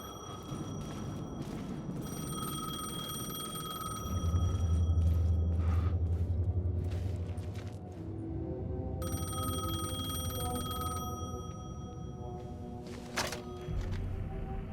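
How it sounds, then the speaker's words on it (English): A payphone in the game Alan Wake II rings over and over, its bright electronic bell repeating in bursts against a low, rumbling ambient backdrop. No voices are heard. "The payphone was ringing."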